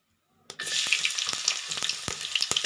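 Onion and green chilies dropped into hot oil in a wok, bursting into a sudden loud sizzle after a moment of quiet, then crackling steadily with sharp pops and spatters close by.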